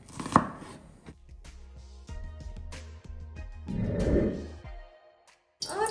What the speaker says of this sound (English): Катя will cut onion, because we need to fry it in borscht and in mashed potato too.